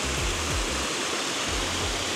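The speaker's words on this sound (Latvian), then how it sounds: "Lūk, arī mūsu slavenais ūdenskritums." Kazugrava waterfall near Cēsis roars steadily in a dense, unbroken broadband wash, loud and close, with low rumbling pulses underneath and no voices.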